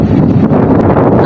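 Strong wind buffeting a microphone outdoors in the early morning at a gleaning trip, a loud, continuous low roaring rumble that fills the whole moment with no clear voices.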